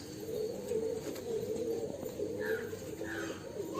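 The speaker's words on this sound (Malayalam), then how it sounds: "ഇപ്പൊ ഈ പ്രാവിനെ ശ്രദ്ധിച്ച ഒരു ബ്ലാക്ക് ഐ പ്രാവാണ്" A black-eyed pigeon coos softly in a low, repeated throaty rumble, steady and close, with a couple of faint higher bird chirps in the background and no talking.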